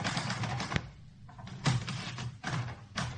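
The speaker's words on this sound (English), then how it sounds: "It's a typewriter. Not a real one, though." A toy typewriter clacks in a quick, uneven run of close, fairly loud keystrokes, broken by short pauses and a few heavier thumps, with no voices over it.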